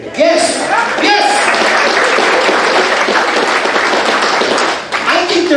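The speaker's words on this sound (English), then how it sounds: "How about a big round of applause for the ladies in here?" A live crowd breaks into loud, sustained applause for the ladies at a talk-show style event, dense clapping with scattered cheers and voices mixed in, dipping briefly near the end.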